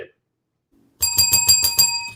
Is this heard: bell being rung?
yes